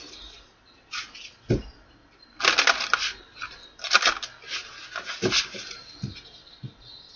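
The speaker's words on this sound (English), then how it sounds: "2 more shuffles." Tarot cards being shuffled by hand, giving short papery riffles and soft slaps in a few uneven bursts, fairly close and quiet, with no talking.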